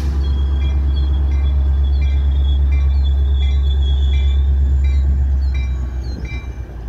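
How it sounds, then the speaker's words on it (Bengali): A local train rolls close past an Illinois railroad crossing near a station, a loud steady low rumble with repeated high metallic wheel squeals and screeches riding over it, easing slightly near the end. "এখানে ট্রেনে সবসময় এরকম একটা আওয়াজ হয়।"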